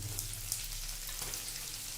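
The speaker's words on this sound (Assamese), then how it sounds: "পিয়াজখিনি অকমান ফ্ৰাই হোৱাৰ পিছতে আমি সাৰ্ডিনখিনি ক্যানৰ পৰা উলিয়াই কেৰাহীত বাকি দিম" Onions fry in a wok with canned sardines in oil and chili, giving a steady, close, crackling sizzle with tiny spits and no pauses.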